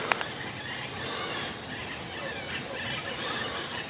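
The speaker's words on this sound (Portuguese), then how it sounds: "Os pássaros tudo cantando." Birds chirping outdoors on a sunny morning by a riverside resort at Uruçuí, Piauí, with a couple of sharper high calls near the start and around one second, over steady outdoor ambience.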